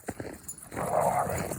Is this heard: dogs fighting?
yes